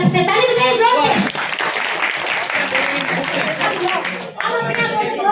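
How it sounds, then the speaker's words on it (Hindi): A crowd claps loudly at a celebration of Lord Shiva's birthday with cake cutting, sustained clapping over several seconds while voices, including a child's, talk over it. "ताली बजाइए जोर से"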